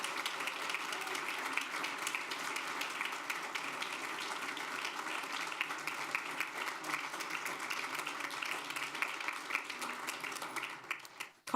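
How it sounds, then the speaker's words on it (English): A school board meeting audience applauds an award-winning early college high school freshman in a dense, steady wash of many hands clapping that holds for about eleven seconds before cutting off abruptly. "Let's give her a big round of applause."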